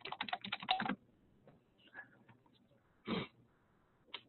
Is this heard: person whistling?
no